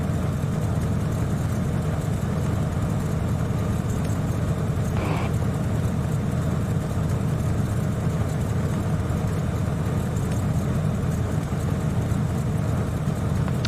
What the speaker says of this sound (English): I love the chug, chug, chug sound of this engine.